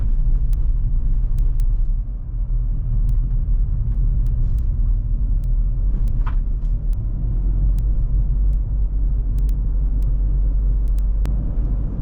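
Steady low engine rumble of a Nissan Magnite Turbo CVT with a one-litre engine driving along a rough road, with a dense, constant roar and occasional faint knocks and clicks.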